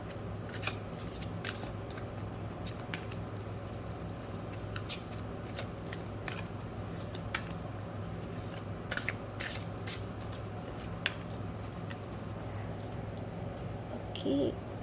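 Tarot cards are handled and shuffled for a reading, giving soft continuous riffling and papery rustle with scattered crisp snaps, faint and close, under quiet room tone.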